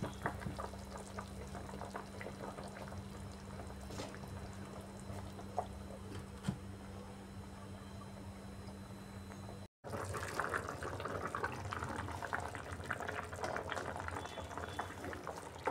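Fish heads and taro simmer in a covered pot over medium heat, a quiet, steady bubbling under a low hum, broken by a brief dropout before the bubbling resumes slightly louder.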